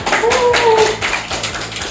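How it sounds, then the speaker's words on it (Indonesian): Classroom students clap for a classmate, a short patter of hands with rhythmic taps, fairly close, while a voice speaks over the start. "Oke, terima kasih, tepuk tangan untuk Bintang."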